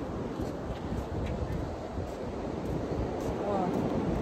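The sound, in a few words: wind at the Atlantic Ocean shore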